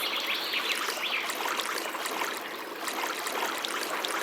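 River water in Molly's Canoe Quest video game flows in a steady, gentle trickling babble, soft and continuous, with faint hints of birds and insects behind it, and no voices.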